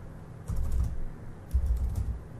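Two short bursts of rapid computer keyboard typing, clicky keystrokes close by, separated by a brief quiet pause.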